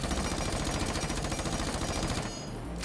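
An MP5 fitted with a flash hider and vertical grip fires a long, steady automatic burst in Rainbow Six Siege, evenly paced rapid shots that stop abruptly near the end, with no talking.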